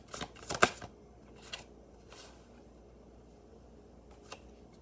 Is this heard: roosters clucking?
no